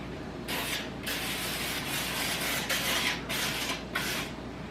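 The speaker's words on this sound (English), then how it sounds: "Give it a good spray." A continuous hiss from an aerosol can of avocado oil spray, held close to a loaf pan, pulsing slightly as the nozzle is pressed in several quick bursts.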